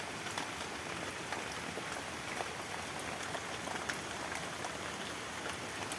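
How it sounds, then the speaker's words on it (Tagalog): Steady rain falling on a surface, a dense even patter with scattered louder drops, continuous and fairly soft. "Matagal na rin kasi ulan dito eh."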